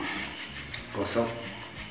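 Hands rubbing together with a soft, close rasping friction sound that swells briefly in the middle, with a faint voice underneath.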